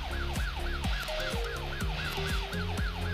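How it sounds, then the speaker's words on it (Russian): A police siren wails continuously in a police driving simulator game, a loud repeating up-and-down electronic sweep about twice per second over engine hum, with no talking. "У нас сирена все не умолкает."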